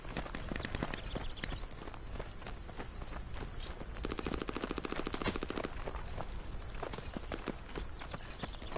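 Rapid gunfire from the military shooter Squad, bursts of automatic rifle fire crackling in quick rhythmic strings, fairly distant and faint, with a tight, fast volley in the middle.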